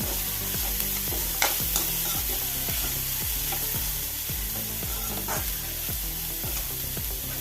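Bitter gourd (karela) stir-frying in a pan gives off a steady, even hiss, with a regular, thumping beat running underneath throughout.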